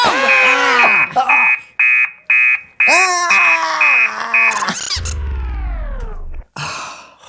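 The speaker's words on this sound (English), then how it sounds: "Would you like to hear my alarm? Yes, and make it loud." A robot alarm clock sounds a loud electronic alarm: bursts of rapid, high beeping tones broken by short gaps, then a warbling, falling groan-like sweep near the end.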